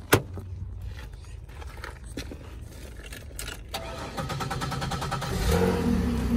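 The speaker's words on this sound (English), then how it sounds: "Cranks right up, sounds good." A 2016 Toyota Tundra engine cranks over and catches, then idles and revs up steadily, loud and close with a jangle of keys at the start.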